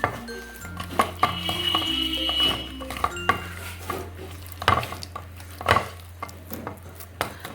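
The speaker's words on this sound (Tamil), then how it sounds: "எல்லாம் நல்லா ஒன்று சேர வரத்துக்கு நல்லா கையினாலே மிக்ஸ் பண்ணிடலாங்க." Cauliflower pieces being mixed by hand with masala for street-style chilli gobi, making close, irregular squishes, rustles and light knocks against a bowl.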